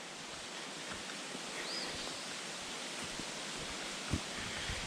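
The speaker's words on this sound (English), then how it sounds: "I hear another waterfall" A steady, faint rush of a waterfall heard from a trail near the Cumberland River on the Devils Rock Trail, a soft continuous wash with slight rustling and no talk.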